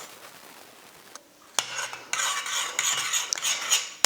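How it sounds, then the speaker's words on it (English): Sweet and sour sauce made with honey is stirred in a pot over medium heat, the spoon scraping and clinking against the metal in close, busy strokes after a quieter opening. "Then place this on medium heat and stir until all the ingredients thin a little."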